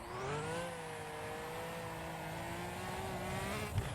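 Turbocharged race car engine from a racing video game at the Goodwood hillclimb start, a sustained high-pitched whine climbing steadily as the car accelerates, loud and alone with a brief knock near the end.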